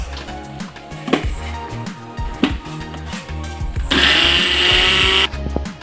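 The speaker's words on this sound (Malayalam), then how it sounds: "ഞാൻ നാളികേരം അരയ്ക്കാൻ പോവുകയാണ് പായസത്തിലേക്ക്" A kitchen mixer grinds coconut for parippu payasam in a loud, steady whirring burst of about a second and a half, set against background music.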